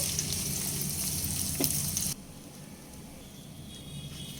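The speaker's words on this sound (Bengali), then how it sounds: "পেঁয়াজ সোনালি রং ধরে আসা পর্যন্ত ভেজে নেব" Chopped medium onions frying in oil in a pan, a steady broadband sizzle that runs loud for about two seconds, then drops to a quieter, softer crackle for the rest.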